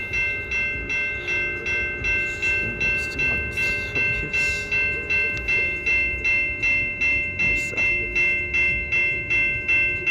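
A freight train rolls past in Saint-Hubert, its wheels beating a loud, steady clickety-clack over the rail joints while sustained tonal ringing hangs above the rumble.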